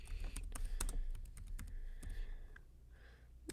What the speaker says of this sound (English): you are going to type in your cosmetic name.